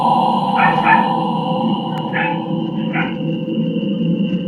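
A dog caught on CCTV barks in a few short, sharp bursts at a moderate distance over a steady background hum, with no one talking.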